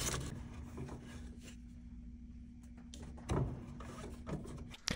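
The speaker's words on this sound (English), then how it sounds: "I'm just using a hard bristle brush, and I'm going to stroke these fan blades until they're pretty clean." A hard-bristle brush scrubs the fan blades of a Whirlpool combo dryer in short, rasping strokes, close and fairly quiet over a low steady hum, with a few sharper scrapes near the end.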